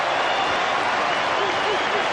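Dense roar of a large cricket stadium crowd at the 1992 Pakistan versus New Zealand World Cup semi-final, clapping and cheering continuously, loud and sustained, with a faint voice underneath.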